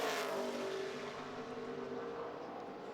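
A NASCAR Nationwide race car runs a qualifying lap at Phoenix, its engine a steady, fairly faint drone that fades slightly as it moves away, heard alone with no voices.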